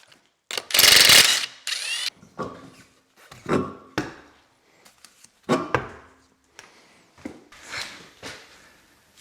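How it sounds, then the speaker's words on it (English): A ratchet unbolts parts of a Subaru Justy MK1 during a rebuild, with loud, close bursts of rapid clicking separated by short pauses. There is no speech. "Should we start unbolting stuff?"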